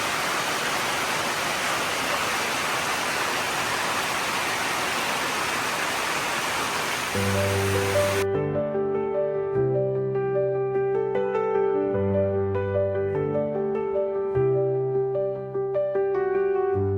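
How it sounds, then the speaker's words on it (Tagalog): Very heavy rain pours down as a dense, steady roar for the first half, then cuts off abruptly and gives way to music. "inabot kami ng napakalakas na ulan"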